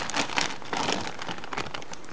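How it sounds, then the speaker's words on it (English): A regular plastic shipping bag for a mail-order power meter crinkles and rustles in several close, uneven bursts as it is handled and opened. "Just came in this regular plastic bag."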